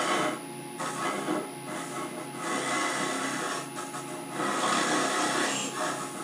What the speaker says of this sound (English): I've got the lathe spinning back the conventional way